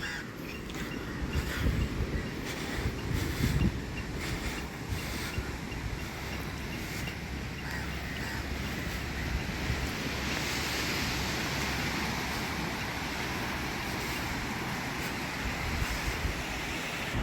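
Sea waves washing onto the beach at Negombo on Sri Lanka's west coast, a steady broad roar of surf with wind buffeting the microphone and occasional crow caws in the distance.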